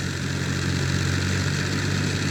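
A tractor-driven thresher works through wheat, giving a continuous loud droning engine hum with a rattling mechanical texture and no pauses.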